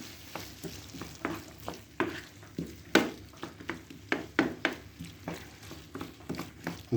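Chopped vegetables, including courgettes, being stirred in a frying pan: a soft steady sizzle broken by repeated scraping and clacking strokes of the spoon, close and moderately loud.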